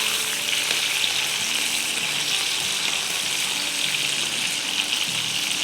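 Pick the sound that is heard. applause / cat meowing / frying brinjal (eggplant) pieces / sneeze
frying brinjal (eggplant) pieces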